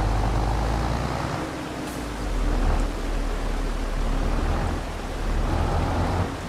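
Steady, loud rain in Farming Simulator 22 forms a dense, unbroken wash of downpour with a low rumble beneath it, swelling slightly at intervals and heard alone without talk.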